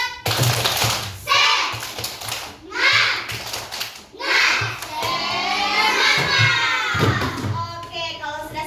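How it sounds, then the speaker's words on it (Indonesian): Classroom children perform a rhythmic spirit clap, sharp patterned bursts of clapping alternating with loud chanted children's voices, ending in shouting together. "Tepuk semangat."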